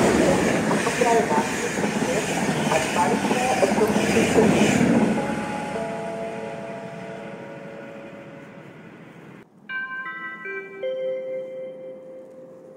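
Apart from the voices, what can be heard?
train passing through a railway station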